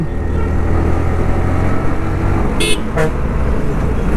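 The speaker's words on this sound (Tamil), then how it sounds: "பரவாயில்ல, ஹார்ன் அடிச்சோன்னு ஒதுங்கிட்டார்." Two short car horn toots sound over a steady road and engine drone in heavy hill traffic at Thimbam on the Mysuru to Coimbatore road, the first a brief blast, the second quicker.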